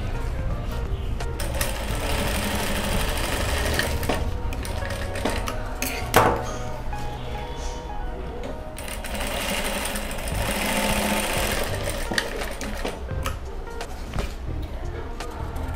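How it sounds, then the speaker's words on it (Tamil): A sewing machine stitches lace onto a fabric card holder in a fast, steady mechanical rattle close by, with brief pauses and a voice talking over it. "தையல் போட போகிறோம்"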